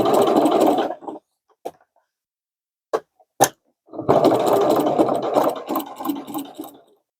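A sewing machine stitches through denim on an upcycled tote bag, running in a loud steady burst for about a second, pausing with a few light clicks, then whirring again for about three seconds.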